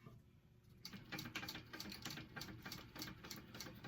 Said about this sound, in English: So I'm going to go ahead and top stitch.